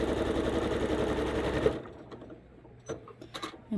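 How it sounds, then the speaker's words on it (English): Sewing machine stitching quilt fabric runs in a steady, loud mechanical whir for under two seconds, then stops abruptly, leaving quiet handling clicks and rustles. "And then just stitch all the way down."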